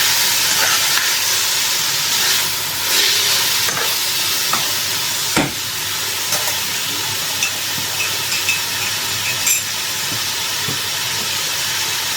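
A Chinese dish stir-fried with a spoonful of soy sauce added, giving a steady close sizzle and hiss of frying with occasional scrapes and clinks of the spatula stirring in the pan, with no talking.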